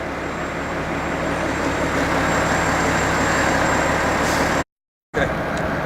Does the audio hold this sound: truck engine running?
yes